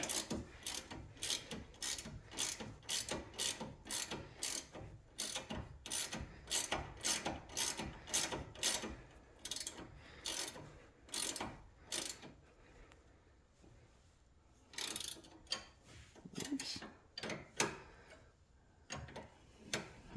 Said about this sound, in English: I'm using this because you don't always have the room, and it's a ratcheting wrench.